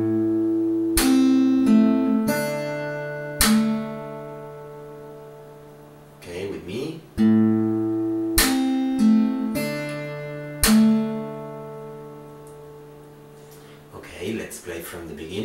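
Fingerstyle acoustic guitar plays a measure of a song with percussive slaps, plucked notes and struck chords ringing in a repeating pattern twice over, close and clear, with short muted rustles between phrases.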